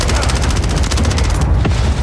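Rapid automatic gunfire from Call of Duty Warzone, a loud continuous burst of dense shots that cuts off near the end, followed by a single later report.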